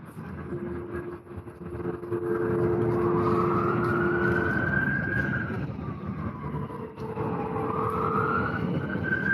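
Emergency sirens rising and falling over city traffic during a street encounter in Vancouver, steady and moderately loud under the road noise, with no talk heard.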